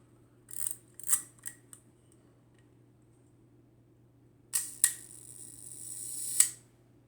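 A Dr. Wöhler Favor camera with a Docar 45mm f/2.8 lens fires its shutter at a 1-second speed: a crisp opening click, a quiet pause, then a closing snap, all close and faint in a quiet room.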